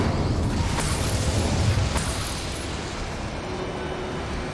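A fire spell cast in Hogwarts Legacy bursts with a loud, dense whoosh and rumble, with sharp crackles near the start and around two seconds, then settles into a steady roar.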